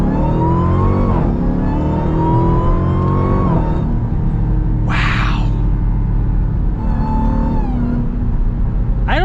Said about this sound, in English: I think I can let the car do the talking for us.